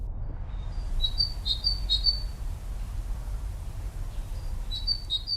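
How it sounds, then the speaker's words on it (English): Early-spring birdsong: bright, high chirps and short tweets come in a few bursts over a steady low hum of background traffic, fairly distant and faint. "I hear birdsong in early spring."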